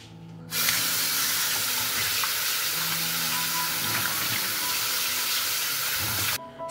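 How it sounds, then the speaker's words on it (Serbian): Peeled potatoes rinsed under a running kitchen tap, a loud, steady, hissing rush of water that starts abruptly, keeps going for several seconds with faint clatter underneath, and then cuts off. "ovako oljušten krompir odnosim sad da ga operem pod mlazom vode"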